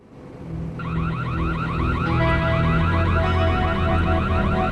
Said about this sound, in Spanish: oyen una alarma de robo y llaman a la policía